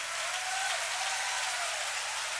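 A church congregation applauds in a large hall, a broad, even wash of many hands clapping at moderate distance, held steadily without a break and no voices on top.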